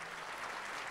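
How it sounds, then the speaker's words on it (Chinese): Audience applause during a one-day sales seminar, a brief dense patter of clapping from a crowd, steady and fairly faint. "这个我们要给我们的 Mr. Kim 一个掌声"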